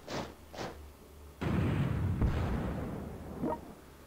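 Artillery fire at a fort in the strategy game European War 6: 1914, with two short thuds followed by a sudden loud blast and a long rumbling roar that fades slowly, close and without voices.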